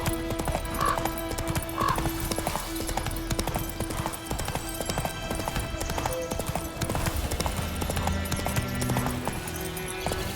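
Horse hooves gallop steadily on the ground in The Witcher 3 video game, a continuous rhythmic clip-clop under layered game music, with a couple of faint snorts or whinny-like tones early on.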